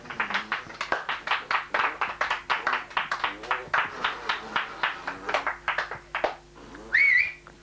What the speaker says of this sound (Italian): Un applauso per il grande Giuseppe Sirchia.